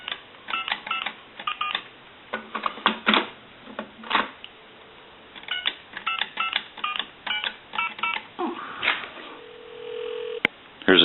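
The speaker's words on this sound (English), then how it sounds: "there's your dial tone" Telephone sounds on a converted Bell South single-slot payphone: a run of crisp dialing tones and clicks, then a steady dial tone near the end, heard up close with brief handling noise.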